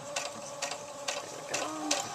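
A sewing machine stitches a doll's tank top in short quick bursts, a faint whirring hum broken by four or five regular mechanical pulses, with no voice over it.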